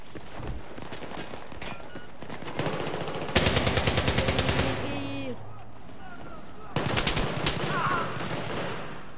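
Gunfire in Battlefield 3: bursts of rapid automatic shots in rhythmic volleys, loud and close, mixed with game effects, separated by quieter stretches of background noise.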